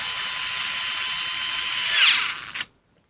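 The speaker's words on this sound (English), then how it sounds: "we're going to do is just squeeze this socket and stall out the tool" A WORX WX242 4V lithium-ion electric screwdriver whines at a steady high pitch while held on a torque rig. The motor strains and bogs as it stalls, then cuts off into silence.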